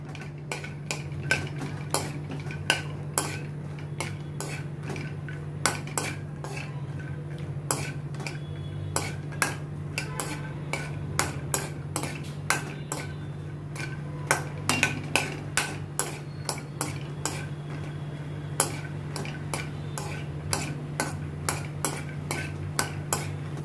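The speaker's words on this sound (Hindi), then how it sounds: "इसमें अभी मैंने ये 100 ग्राम पीनट्स लिए हैं, इनको मैं रोस्ट कर लेती हूँ।" About 100 grams of peanuts are stirred while roasting in a pan over a low gas flame. A spoon scrapes and clicks against the metal in irregular, fairly quiet strokes over a steady low hum, with no talk.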